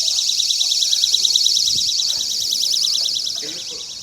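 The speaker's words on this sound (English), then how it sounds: "There's that alarm again." A house alarm in a dining room shrills continuously, its loud warbling tone wavering up and down without a break while people talk quietly beneath it.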